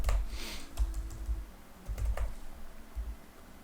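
Typing on a computer keyboard, close and fairly quiet, a run of uneven soft key clicks and taps with short pauses between bursts.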